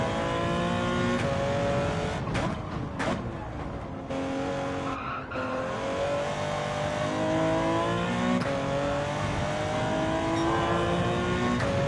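Race car engine in the Gran Turismo 7 video game, a loud continuous whine rising and falling through gear changes, with brief tire squeals, a short lift off the throttle and sustained revving through corners.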